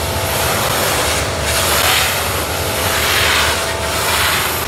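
A 1950s-era helicopter flies overhead, a steady loud broadband engine roar with swelling whooshes as it passes, continuous for several seconds with no talk.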